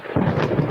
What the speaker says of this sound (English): The battle ends suddenly when Morbius is struck by a bolt of lightning.